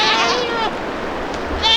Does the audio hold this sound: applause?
no